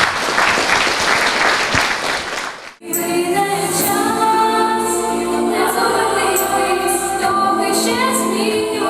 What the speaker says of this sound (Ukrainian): Тут точно треба обмінятися оплесками